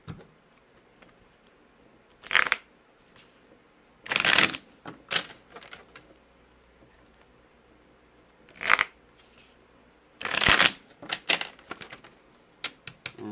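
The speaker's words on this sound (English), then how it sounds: "Do a face-up shuffle." Tarot cards are shuffled face-up by hand in several quick, crisp riffling bursts separated by short quiet pauses, close and clear with no talking.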